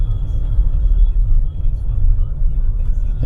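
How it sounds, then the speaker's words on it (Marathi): Heavy road traffic near JVLR in Mumbai, with a steady low rumble of cars and other vehicles close by and continuous throughout. "तर मित्रांनो बघा किती ट्रॅफिक आहे,"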